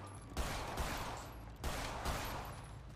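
Bursts of rapid gunfire in a shooter video game, two long sustained volleys of dense automatic shots, loud and close, separated by a short gap, with no talk over them.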